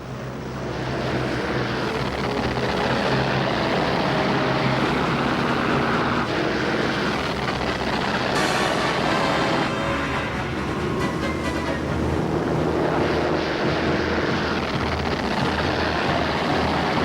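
Japanese aircraft taking off for the Pearl Harbor attack: a loud, steady roar of propeller engines drones on for the whole stretch, swelling and shifting slightly as planes pass, with no voices.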